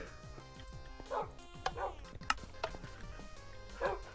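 Dog barking in the video game Minecraft: several short barks and yips over a steady stream of background music, moderately loud and close.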